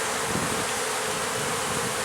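Honeybees buzz densely in a hive crowded with drones, a steady close hum that fills the whole stretch without a break.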